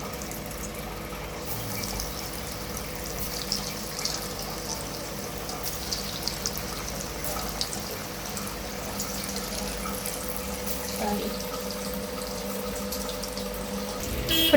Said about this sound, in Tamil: இப்போ நம்ம ஒவ்வொரு பன்னீராக பொரிச்சு எடுத்துடலாம்.